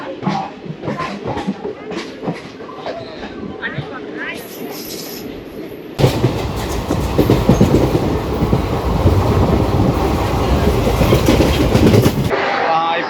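A train pulls into a station on a trip from Nellore, arriving with a loud, steady rumble and clatter that swells suddenly midway and holds to the end, while people talk and station noise carries on around it.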